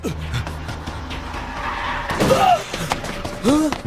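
A car in an Indian action film skids with sharp tire squeals and strikes a person, heard as a loud screech and thud over a busy film soundtrack.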